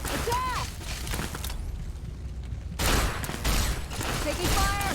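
Dense, continuous bursts of gunfire in the video game Fallout 3, loud and sustained with a brief lull midway, under a busy mix of voices and game noise.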